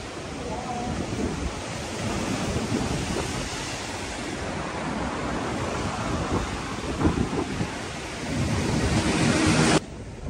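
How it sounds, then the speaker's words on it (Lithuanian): Strong wind blowing by the sea, a steady loud roar that buffets the microphone over the surf for the whole stretch and swells near the end before cutting off abruptly. "toks vėjas"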